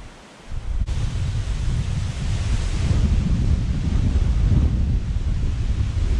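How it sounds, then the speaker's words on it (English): Strong wind buffets the microphone aboard the Viking ship replica Sigrid Storråda, a 24-meter wooden vessel, as a steady, loud roaring rush that swells in after a brief quieter moment and continues unbroken, with no talking. "Very, very windy in here"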